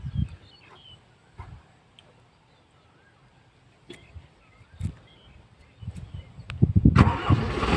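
Car engine cranked and starting, a few quiet clicks and thumps before the motor catches and rises into a louder running rumble at the end.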